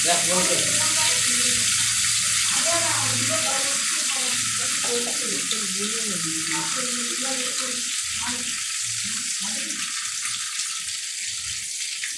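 Cumin seeds sizzle in hot oil, a steady bright hiss and crackle for the full stretch, with a person talking over it close by.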